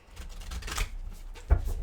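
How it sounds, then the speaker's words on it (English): Large oversized cards being shuffled close by: soft riffling and scraping textures with a sharper snap near the end, no voices. "These cards are a little hard to shuffle, my friends, because they're very large."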